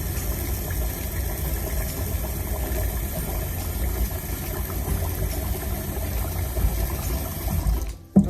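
Bulgur being rinsed in a bowl of water for a Syrian bulgur with vermicelli dish, a steady swishing, sloshing wash of water heard up close and continuously, ending with a brief louder splash.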